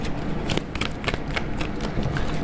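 Tarot cards are shuffled for a reading, a close, continuous papery riffling and flicking with quick repeated slaps that fill the whole stretch.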